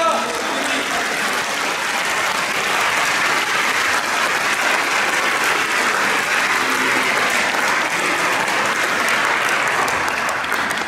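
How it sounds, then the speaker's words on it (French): A church congregation applauds God in loud, continuous clapping that holds an even, dense level for about eleven seconds, with voices mixed into the crowd noise. "On applaudit Dieu!"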